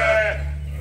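A single sheep on a farm lets out a short, loud, close bleat, strongly voiced at first and then fading, heard alone without talk.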